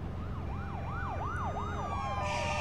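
Police sirens wail in a rising and falling cycle, with a second siren joining toward the end over a low rumble of traffic, moderately distant.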